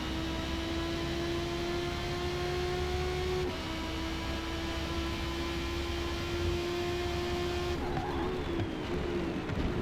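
Nissan Silvia S13 drift car with over 850 horsepower racing, its engine holding a loud, steady high-revving drone that dips briefly at a shift midway and again near the end.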